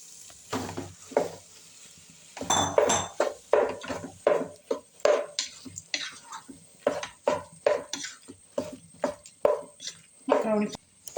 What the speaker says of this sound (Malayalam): ഇനി ഇതിലേക്ക് നമുക്ക് പാസ്ത ചേർത്ത് വഴറ്റാം.